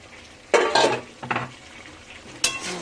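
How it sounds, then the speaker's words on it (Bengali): Fried potatoes are stirred into chicken curry in a pan: a few scraping, sizzling strokes of a spoon, loud and close, separated by brief quieter moments. "দিয়ে একটু ভালো করে নেড়ে ছেড়ে নেব।"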